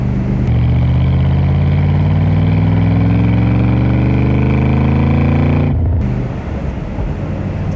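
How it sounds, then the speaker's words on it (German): A restored 1966 Iso Grifo 300 GL Italian sports car engine runs loud and close, its pitch climbing steadily as it revs, then cutting back to a lower rumble near the end. "Aber die Maschine ist toll, die hat richtig schön Drehmoment. Und der Sound von diesem Auto ist ja absolut fantastisch."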